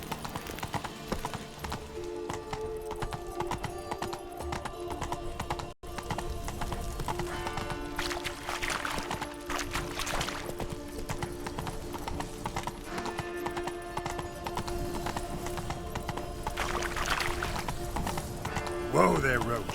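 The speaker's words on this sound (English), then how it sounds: "Whoa there, Roach." A horse gallops in The Witcher 3, with steady, close hoofbeats clip-clopping throughout and voices heard at times.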